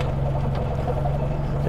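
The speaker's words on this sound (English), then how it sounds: "She's ticking over." Idling engine of a green two-door Morris Minor classic saloon, a steady low hum with a constant tone, moderately loud and continuous, no talking.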